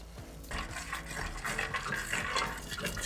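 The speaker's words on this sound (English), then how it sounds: "Now, we're gonna add some evaporated milk." Evaporated milk pours into a pot for lobster mac and beer cheese, a soft continuous liquid splashing with some stirring clinks, without talk.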